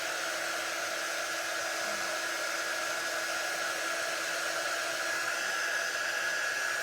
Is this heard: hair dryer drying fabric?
yes